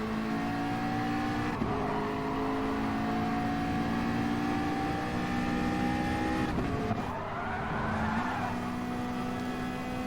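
Racing car engines in Gran Turismo Sport, with a Mazda Atenza and a Jaguar in the pack, a loud continuous drone of revving motors with gear-shift dips, tire squeal and cars passing closely.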